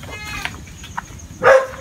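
Goat bleating while being fed on a Filipino farm: a short, loud, close bleat near the end, preceded by quieter rustling and faint animal sounds.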